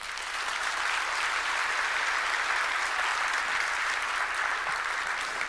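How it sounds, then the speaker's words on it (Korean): An audience claps steadily and loudly throughout, a dense continuous applause with no voices rising above it, at a corporate vision launch event for an insurtech company. "박수 한번 주시죠."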